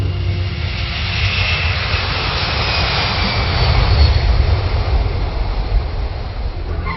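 A Blackbird military jet aircraft gives a continuous loud roar that swells slightly around the middle and holds steady, with no voices and a broad rumbling texture.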